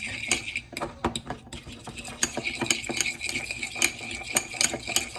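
A fork stirs and beats egg whites in a bowl, giving rapid, irregular metallic clicks and scrapes against the dish at close range, with no talking.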